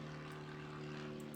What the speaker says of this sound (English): It's a helicopter, guys, sorry.